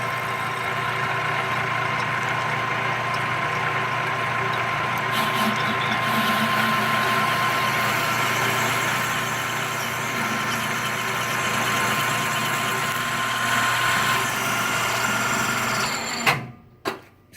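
A metal lathe turning at about 250 RPM while parting off a waterproof container with cutting fluid, giving a steady, continuous machine hum and whine that ends abruptly near the end.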